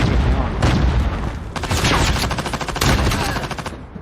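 Dense bursts of Call of Duty Mobile gunfire, rapid automatic shots in clustered volleys with booming reports, loud and close, with faint voices underneath.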